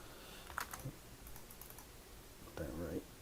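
Someone types faint, soft keystrokes on a computer keyboard in a few quick clusters while entering text in a drafting program. A quiet voice can be heard underneath.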